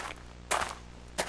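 Two short, loud bursts of video game gunfire about half a second apart, each a sharp crack with a brief tail, over a low steady hum.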